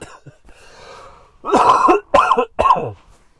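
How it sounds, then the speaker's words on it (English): A throat clear followed by three harsh, loud coughs in quick succession, close to the microphone. "I still have my cough."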